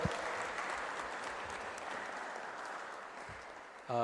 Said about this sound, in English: A huge round of applause to revered Professor Dr. Karad sir.